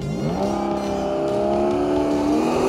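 A Porsche sports car drives a slalom course at a Porsche track event, its engine revving loud and close with a rising, climbing exhaust tone as the car accelerates through the turns.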